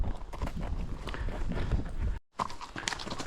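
Horses walk down a long, gently sloping path, their hooves clopping in a steady close rhythm over rustling outdoor noise, briefly dropping out near the end.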